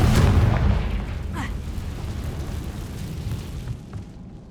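A Confringo blasting spell explodes in Hogwarts Legacy: a loud, close boom bursts at the start, then a rumbling roar slowly fades over several seconds.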